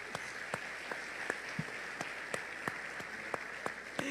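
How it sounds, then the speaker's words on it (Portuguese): A congregation at a couples' church service claps sparsely, with distinct separate claps at a slow regular pace over a soft room hum. "Aplauda o Senhor."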